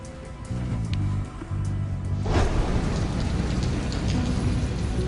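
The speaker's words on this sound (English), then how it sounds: "Rain has been hitting Guam on and off all day." Steady rain pours down on Guam with a dense, hissing wash that grows heavier partway through, and a low rumble runs underneath.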